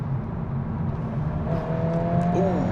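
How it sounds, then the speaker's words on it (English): VW Golf R Estate engine revving up toward its redline, a rising drone heard from inside the car with a climbing whine near the end, continuous and moderately loud. "It's revving much higher as well."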